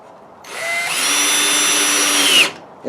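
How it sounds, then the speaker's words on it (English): A power drill boring a pilot hole through two pieces of wood, one loud close whine that starts up, holds steady for about two seconds and then winds down. "So I drilled a pilot hole here, again just a guiding hole, you might say, for the screw to go down"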